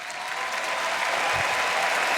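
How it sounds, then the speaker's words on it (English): Fans applaud and cheer throughout the arena at an EU LCS summer playoff grand final in League of Legends esports, a steady loud wash of clapping and crowd noise with no break. "Madrid fans cheering"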